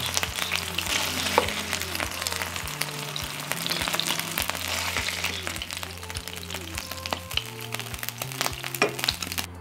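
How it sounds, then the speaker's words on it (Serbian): Pljeskavica patties sizzling in a frying pan, with close, steady crackling spatter, a low background hum and occasional light knocks. "Pržit ću ih 2 do 3 minuta sa jedne i sa druge strane"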